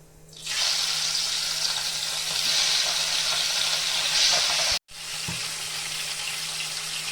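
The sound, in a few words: pabda fish frying in hot mustard oil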